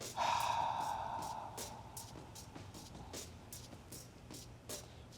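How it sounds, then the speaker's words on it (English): A big exaggerated exhale during a glute workout breathing exercise, one loud breathy rush at the start that fades slowly, followed by faint clicks. "Big exaggerated exhale."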